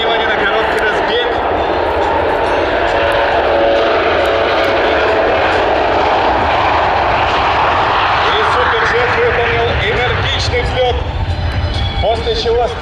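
A Sukhoi Superjet 100 airliner on its takeoff run at the MAKS 2019 air show, loud, steady jet engine roar building and shifting in pitch throughout, with a voice speaking over it.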